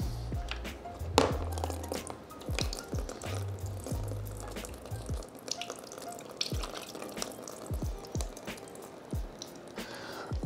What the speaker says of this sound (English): put the PC over a table and then put like a pan underneath to catch all the coolant underneath the pump